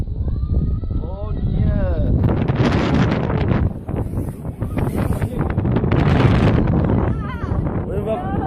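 Strong wind at the top of the Eiffel Tower in Paris roars and buffets the microphone in loud, continuous gusts while voices talk.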